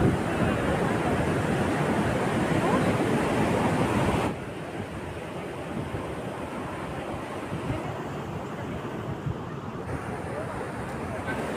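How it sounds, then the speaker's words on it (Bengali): Steady roar of Bay of Bengal waves on a beach at Rajhansa Island, Chilika, with heavy wind buffeting, loud at first then a little softer, continuous throughout. "এখানে একটা সমুদ্র বিচ আছে"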